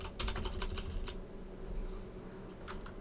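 Quiet clicks of typing on a computer keyboard, a quick burst of keystrokes at the start, then a pause and a couple of isolated taps near the end, close and faint.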